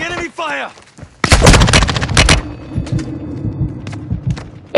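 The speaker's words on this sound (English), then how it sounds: "Taking enemy fire!" Rapid gunfire in the video game Warzone 2.0, a dense burst of loud close automatic shots lasting about a second, then scattered single shots and impacts, with a voice speaking briefly just before.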